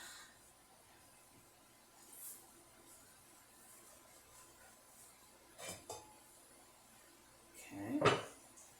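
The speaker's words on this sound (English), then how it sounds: "I'm going to just take the lid off." A metal lid lifts off a cooking pot of vegetable-loaded sweet chili, ending in a single close metallic clank and rattle after a few quieter kitchen clinks and shuffles.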